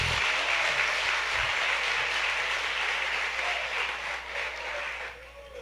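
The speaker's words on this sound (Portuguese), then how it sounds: "Pode dar um aplauso para Jesus" Audience applause at a talk in response to a call to applaud Jesus, a broad steady clapping wash that holds for several seconds and then gradually tapers off.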